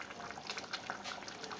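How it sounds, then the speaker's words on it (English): A pot of stew bubbles at a steady boil, a soft continuous crackle of popping bubbles heard up close and fairly quiet, with no talking. "after some few minutes, we check and we find out that our stew is actually boiling"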